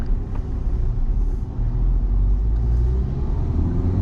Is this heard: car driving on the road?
yes